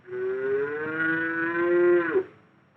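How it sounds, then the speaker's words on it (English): A hungry calf bellows a single long, loud moo for its mother, held steady for about two seconds before breaking off abruptly, close by with no other sounds around it. "Buttercup the calf is just waking up, too. He is hungry and wants his mother"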